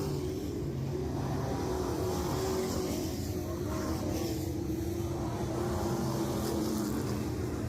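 Pro trucks racing nose to tail on an oval track, a steady loud engine drone from several trucks at speed, continuous throughout with no talk.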